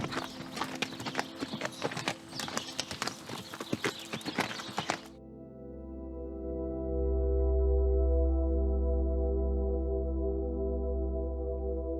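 A horse's hooves clop in an irregular walking rhythm for about five seconds in New Zealand, then stop, leaving a low steady rumble with faint tonal hum.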